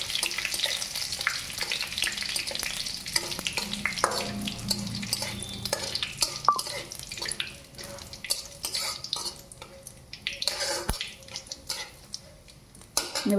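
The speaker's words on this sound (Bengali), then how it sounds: "শুকনো লঙ্কা দিয়ে দুটো শুকনো জিরে দিয়ে দিলাম" Dried red chilies and cumin seeds sizzling in hot oil for a cabbage dish, a steady crackling fry with scattered stirring scrapes and sharp utensil clicks against the pan, lasting throughout.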